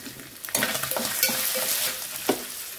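Boiled potato fries in a pan and is stirred with a spoon, a soft sizzle beneath a few sharp scraping clicks of the spoon against the pan, close and fairly loud.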